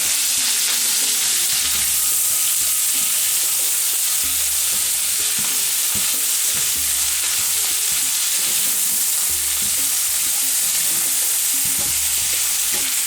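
Shrimp fry loudly in a pan with chermoula, a dense, continuous sizzle up close, while the mixture is stirred with intermittent low scraping strokes and no talking.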